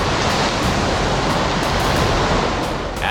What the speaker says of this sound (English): massive waves thundered onto the tracks, colliding with passing trains